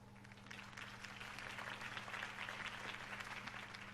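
Crowd applause after Harvey Dent's campaign speech in the Batman Telltale video game, a steady wash of distant clapping over a low electrical hum.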